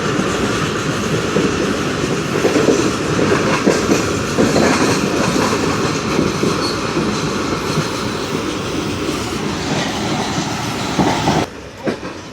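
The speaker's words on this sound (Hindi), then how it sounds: "अब ट्रेन हमारी सम्मासट्टा यार्ड में से पास कर रही है यार्ड को" An express train rolls through a railway yard toward a station approach, its steady loud rumble mixed with rhythmic clickety-clack of wheels over rail joints. The noise continues without pause and eases slightly near the end.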